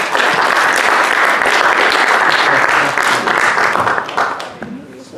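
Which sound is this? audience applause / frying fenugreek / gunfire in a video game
audience applause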